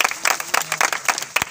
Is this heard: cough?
no